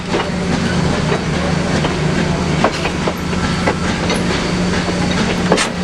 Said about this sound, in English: Number 1702 works the train to a stop before the diesels on the other end take the lead